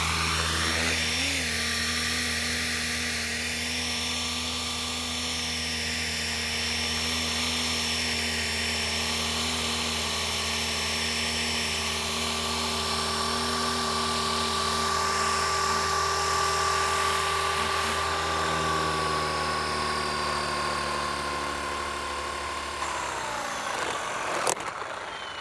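A radio-controlled Blade Infusion 210 helicopter's rotor whirs loudly and steadily with a high whine, holding pitch for over twenty seconds before spooling down abruptly near the end.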